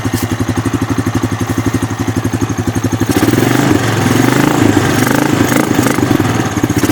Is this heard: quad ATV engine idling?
yes